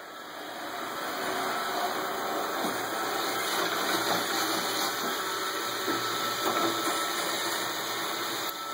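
A Roomba robot vacuum cleaner runs nearby with a steady whirring motor hum and brushing noise that stays constant for the whole stretch, with no talking.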